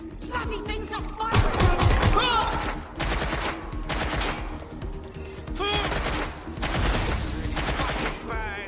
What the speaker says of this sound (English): Bloody things are firing!